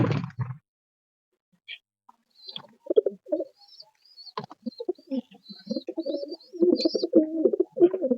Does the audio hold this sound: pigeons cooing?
yes